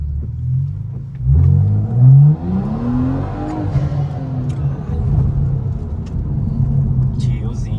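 A car revs and accelerates over a speed bump on a street, its engine rumbling up and down nearby while people talk over it.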